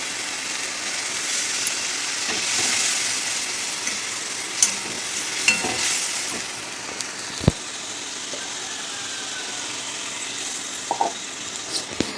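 A steady sizzle and bubbling from a pan where water has been added to frying fish, with occasional clanks of stirring against the pan, moderately close and continuous.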